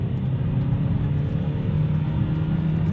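A 2015 Vauxhall Insignia 140 SR heard from inside the cabin as it accelerates through the gears, giving a steady, loud low engine drone with a rising tonal hum and no voices.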